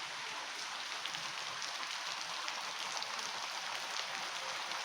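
Steady monsoon-season rain at a rural home with a cattle shed, a continuous even hiss of drops falling on surfaces, with no voices.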